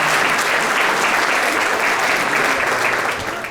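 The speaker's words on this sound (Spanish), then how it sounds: "Entonces denle un aplauso pues a Dios" A church congregation applauds together, a loud, dense wash of clapping from many people that holds steady and only eases slightly at the very end.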